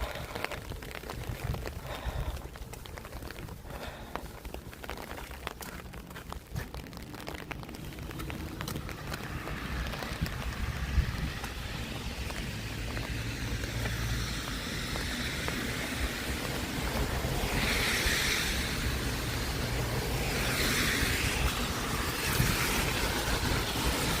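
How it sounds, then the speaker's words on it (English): Steady wind buffeting a microphone on an icy winter walk through Toronto, a continuous low roar that swells louder toward the end, with no talk. "Fighting the wind, I think."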